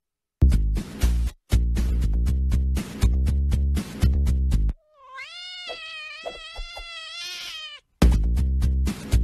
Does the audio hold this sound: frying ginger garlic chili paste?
no